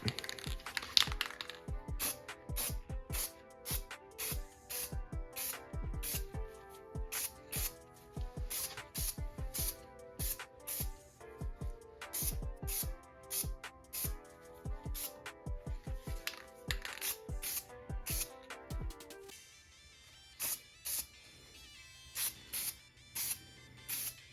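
An aerosol paint can hisses in short repeated bursts while spray painting an MK5 GTI brake caliper, close and rhythmic with crisp clicks between passes, pausing near the end before a few final sprays.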